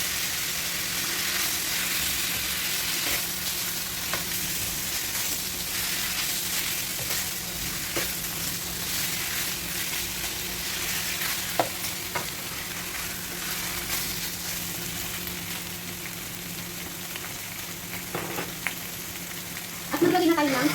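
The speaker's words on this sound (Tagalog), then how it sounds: "Ihalo natin mabuti." Pork caldereta sizzles steadily as it fries in paste, with a continuous loud crackle and occasional scrapes of a spoon stirring the pan throughout.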